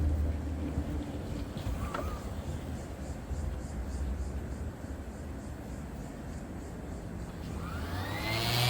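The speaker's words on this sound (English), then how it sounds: "the sander will do the job." An electric sander runs continuously on a painted 150-year-old Australian colonial solid cedar chest of drawers, a steady close whirring roar with rough grinding texture that rises slightly near the end.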